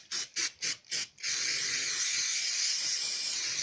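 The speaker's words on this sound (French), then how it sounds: "Je vais pchiter" An aerosol spray can gives five quick, sharp bursts in a row, then one long sustained hiss, close and fairly quiet with no voices.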